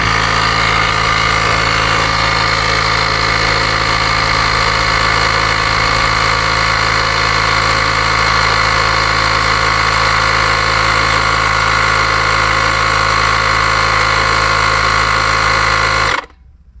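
A portable jump starter's built-in air compressor inflates a car tyre, droning with a loud, steady, buzzing motor hum that runs unbroken for about sixteen seconds before cutting off abruptly.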